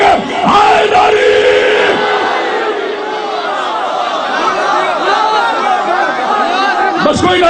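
A large crowd at a religious chehlum gathering in Multan chants slogans in unison, loud massed voices rising in repeated call-like surges and then tapering off.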